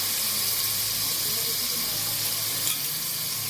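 Steady, close watery rush with a faint sizzling hiss, continuous for the whole stretch, as water is poured into a pot of rice for pudina rice.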